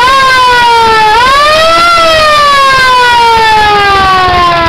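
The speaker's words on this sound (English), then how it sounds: "I added a siren." A siren fitted to a 1929 Henderson KJ motorcycle wails loud and close, its pitch dipping, rising sharply, then sliding slowly downward in one long continuous tone.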